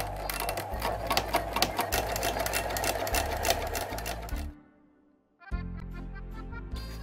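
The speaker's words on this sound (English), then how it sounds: "For this I choose again a big zigzag stitch, and I'm zigzagging around." A sewing machine sews a wide zigzag stitch around a garment's facing edge, a loud, fast, steady close-up whirring and clatter that stops briefly for about a second before running again.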